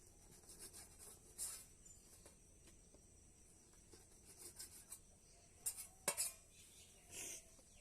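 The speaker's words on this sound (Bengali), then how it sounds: "ব্রেডটাকে আমি কেটে নেব ছুরি দিয়ে" A knife cuts bread slices into even square shapes, giving quiet scattered scraping and sawing strokes with occasional sharper clinks against a plate, faint and close over a low background hum.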